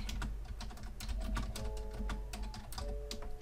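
Quick, irregular clicks of typing on a computer keyboard, close up and fairly quiet, tapping in uneven bursts with no talk.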